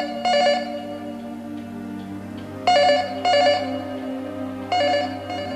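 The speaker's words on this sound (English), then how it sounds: "Diana didn't hear the phone ringing inside the house." A telephone rings inside a house with repeated electronic bursts, four distinct rings spaced a second or two apart over a low steady hum, clear and moderately close.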